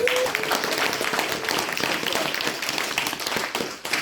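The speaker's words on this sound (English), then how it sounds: "So I would like to give a round of applause to all the guys" A convention panel audience applauds the guests of a toy Q&A, with a steady wash of many hands clapping at moderate distance, thinning slightly near the end.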